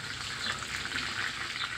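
Chopped onions sizzle and fry in hot oil in a kadai, a steady close crackling hiss with no talk over it.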